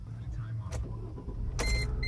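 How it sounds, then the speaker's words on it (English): A Mercedes-Benz C280 4Matic engine cranks briefly and catches, settling into a steady idle with a low rumble; a short broadband burst near the start and another later. "Car starts right up."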